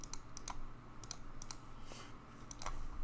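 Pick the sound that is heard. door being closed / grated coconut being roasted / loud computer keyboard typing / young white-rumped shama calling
loud computer keyboard typing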